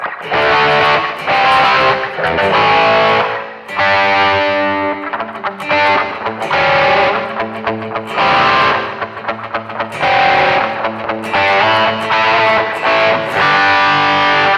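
Heavily distorted electric guitar through a BOSS eBand JS-series amp plays chunky riffs with sustained chords, loud and continuous with brief gaps between phrases.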